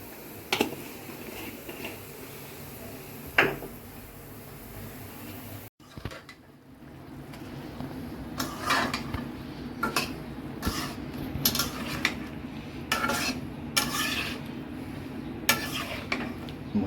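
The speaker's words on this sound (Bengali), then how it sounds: "এখন সবজিটা কষে নেই ভালোভাবে" Vegetables being stirred and sautéed in a cooking pot before fish is added, with a low steady sizzle and scattered scraping and clinking of the utensil against the pot, a brief dropout near the start, then busier bursts of stirring.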